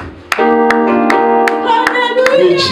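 Worshippers clap for God at a church service, sharp claps landing in a regular beat over loud sustained music or singing.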